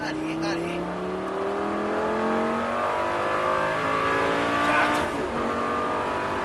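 Car accelerating hard on a track during a driving lesson, engine revving up in rising harmonic sweeps with a faint tyre squeal, loud and close, with an instructor talking over it.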